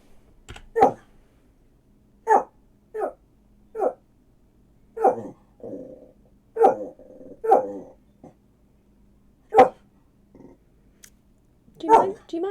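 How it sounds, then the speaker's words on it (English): A dog gives a series of sharp separate barks spread over several seconds, each short and fairly close, with a person speaking in between. "Shut up, you horrible, horrible, horrible dog."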